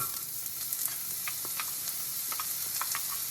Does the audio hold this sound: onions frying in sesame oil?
yes